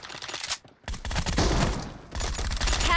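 Rapid bursts of gunfire ring out in a team shooter video game, loud and close, with a short gap between volleys and a brief electronic tone at the end.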